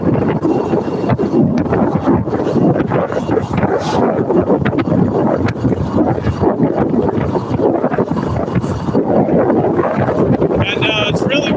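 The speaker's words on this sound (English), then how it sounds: "And it's really windy, as you can probably tell." Strong wind roars and buffets the microphone continuously, a loud, rough rumbling rush with no breaks.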